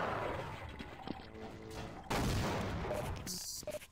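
A grenade goes off in the Half-Life video game: a loud, close blast of gunfire and explosion noise that bursts in midway and keeps ringing, with game sounds and fainter action before it.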